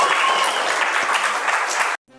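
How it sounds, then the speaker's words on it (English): A convention panel crowd at a comic con claps steadily and fairly loud for about two seconds, then cuts off abruptly into silence. "Again, round of applause, Melanie Zanetti, everybody."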